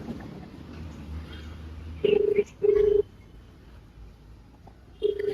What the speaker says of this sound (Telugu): కాల్ అయితే చేస్తున్నాం సన్నికి.